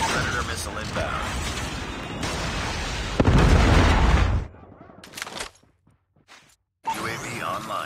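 Missile strike explosion in Call of Duty Mobile gameplay, a loud booming blast with heavy rumbling gunfire around it, then the din cuts out to near silence before game noise resumes.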